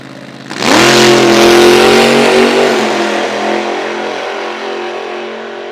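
A supercharged drag racing car at Toronto Motorsports Park makes a straight pass, bursting from a low idle into a loud, sustained roar that holds, then slowly fades as it pulls away.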